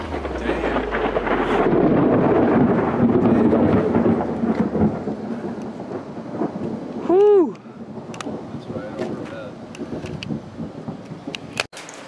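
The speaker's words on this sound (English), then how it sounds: "that lightning was insane." Thunder from a lightning storm rolls in as a long, loud, deep rumble that slowly fades, with rain falling steadily underneath, a short whistling tone in the middle and a sharp crack near the end.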